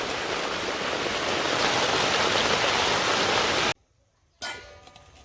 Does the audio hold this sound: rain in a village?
yes